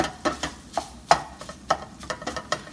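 Ground beef browning in a pan, heard as a string of sharp scraping, tapping stirs with a faint sizzle underneath, close and irregular, with no talk.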